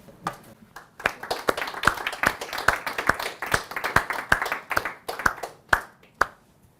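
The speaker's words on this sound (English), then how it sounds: "let's give a round of applause to those youngsters" Audience clapping at a steady rhythm during a conference talk, with distinct individual claps rather than a dense roar. It stops after about six seconds.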